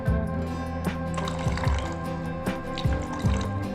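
A small amount of vinegar trickles into lemon juice for a homemade fly-repellent mix, making a quiet, close pouring sound with scattered drips and splashes.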